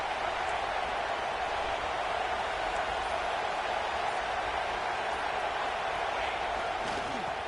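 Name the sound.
stadium crowd noise at a football game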